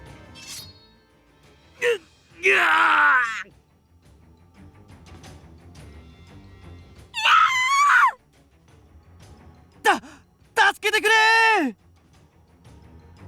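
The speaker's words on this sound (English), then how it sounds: "The screams grew louder." As flames engulf a village in Battlefield Waltz, anguished voices let out several separate screams, some long and wavering and some short, rising out of near silence at uneven intervals.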